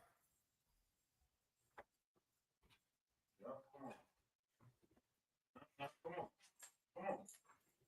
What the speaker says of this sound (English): I told you stop barking.